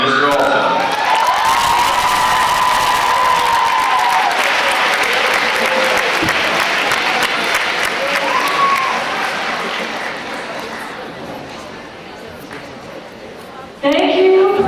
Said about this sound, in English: Give them a loud round of applause for Miss Omi and Mr. Olson.